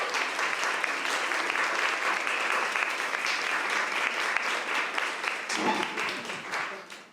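An audience at a holiday mingle applauds to welcome a woman to the stage, with steady, dense clapping that holds for about six seconds and then fades out toward the end.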